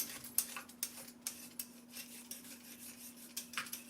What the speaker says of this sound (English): Peeling the skin off a little bit.